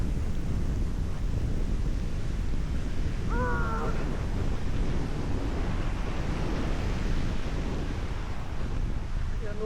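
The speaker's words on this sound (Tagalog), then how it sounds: "Ang hangin." Strong wind in stormy Canadian weather roars and buffets against the microphone in a constant, loud rush, with a faint voice briefly surfacing.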